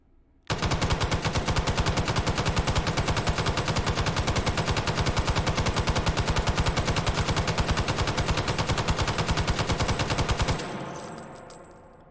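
An M60 machine gun firing in the video game H3VR, one loud, sustained burst of rapid, evenly spaced shots lasting about ten seconds, then a ringing echo that fades away.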